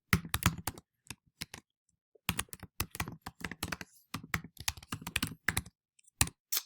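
Login being typed on a computer keyboard, close rapid clicky keystrokes in uneven bursts with short pauses, no voices.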